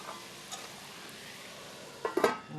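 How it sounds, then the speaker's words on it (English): A metal lid clanks onto a cooking pot, a few quick close rattling clinks near the end after quiet kitchen background with faint light taps. "I'm going to put a lid on this"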